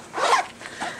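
A zipper on a drawer pouch is pulled shut up close, one quick rasping run followed by a softer short tug, with no talk.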